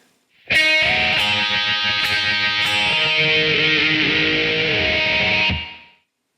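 Heavily distorted electric guitar plays a riff, a sustained ringing passage with a few sharp picked accents and pitch-bending whammy dips near the end, loud and solo, ending in a quick fade.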